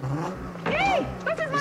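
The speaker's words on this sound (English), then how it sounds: "He's driving an Alfa Romeo." An Alfa Romeo GTV6 revs in a chase scene from the 1983 Bond film Octopussy, its engine rising and falling in whining sweeps over steady background noise for under two seconds.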